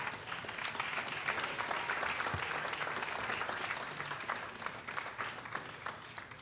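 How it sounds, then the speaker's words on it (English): An audience at a school business showcase gives a standing round of applause, a continuous wash of many hands clapping at moderate distance that holds steady and only begins to thin toward the end. "give them a big round of applause"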